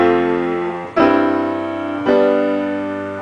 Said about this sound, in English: there is also what's called a half cadence, where it ends on 5.